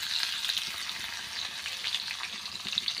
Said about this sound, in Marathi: लसूण छानपैकी तळला गेला आहे